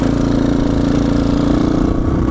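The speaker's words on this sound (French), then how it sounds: "Le son de la moto il est tellement mais dégueulasse" A motorcycle engine runs at a steady idle, close and loud, with a rough, throbbing mechanical hum.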